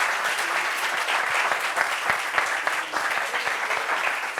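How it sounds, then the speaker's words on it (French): Enthusiastic applause from a crowd, steady dense clapping that carries on throughout, fairly close and loud. "Applaudissements pour elle, s'il vous plaît."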